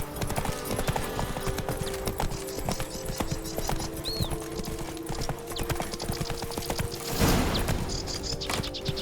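Roach, the horse from The Witcher 3: Blood and Wine, gallops steadily with loud, rapid hoofbeats across the whole stretch, joined by a brief whoosh near the end.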